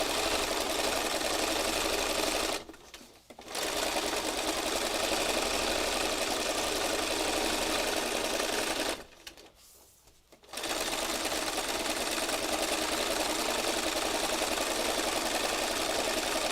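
A sewing machine stitches over a section of a heart design with a loud, steady close-up whir, stopping twice for short pauses before running on.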